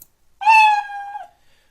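The Scratch cat mascot's meow sound effect plays once, a loud, clean, tonal meow lasting under a second against near silence.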